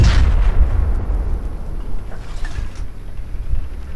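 Heavy tank cannon fire in a Battlefield 4 campaign mission, a deep rumbling boom with a sharp onset followed by a long low roll and a dense background din, loud and continuous.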